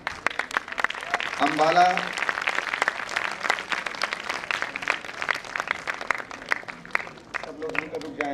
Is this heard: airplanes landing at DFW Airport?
no